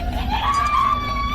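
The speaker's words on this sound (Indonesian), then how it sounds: "Hantu itu pun berteriak" A ghost in a Korean horror film lets out a sustained, eerie wailing scream that rises slightly in pitch over a low rumbling background, with no one talking.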